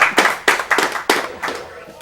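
A single person claps hands in an irregular burst of about seven sharp, close slaps over two seconds, with voices talking underneath.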